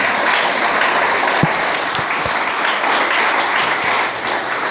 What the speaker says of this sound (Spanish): Dale un aplauso al que vive hoy.